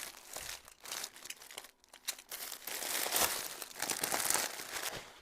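Plastic parcel packaging from a Pinduoduo order crinkles and crunches as it is torn open, close and busy with irregular bursts of rustling and tearing, no voices.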